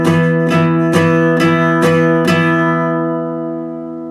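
A guitar strums a power chord slowly, down and up, six even strokes about half a second apart. The chord then rings out and fades, clear and close with no talking.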